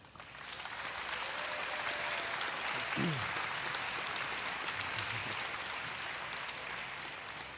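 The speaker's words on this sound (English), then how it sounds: "So give an applause for Ryan." A large convention crowd at a Minecraft panel claps and cheers in sustained applause that fills the hall, with a brief voice rising and falling partway through.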